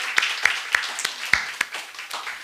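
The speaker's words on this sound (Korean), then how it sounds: "우리 박수 한번 좀 하도록 하겠습니다." A church congregation claps during a Sunday service, a moderately loud spread of hand claps with several sharp individual strikes standing out over the crowd.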